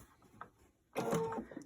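A sewing machine stitching fabric in a short, steady mechanical run that starts abruptly after a quiet moment, close and fairly loud.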